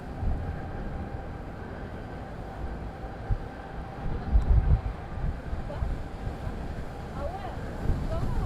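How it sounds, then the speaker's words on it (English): Strong wind buffets the microphone at Madeira Island Airport, a steady low roar with gusts swelling midway and a faint hum of distant engines beneath it. "The wind is picking up a lot here."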